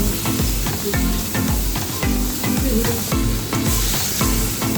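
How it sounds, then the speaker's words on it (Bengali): Raw mango chutney is stirred and fried in a pan, close and loud, with a continuous sizzle under rhythmic scraping strokes repeating roughly twice a second. "এটাকে ভালো করে নাড়াচাড়া করে একটু ভাজা ভাজা করে"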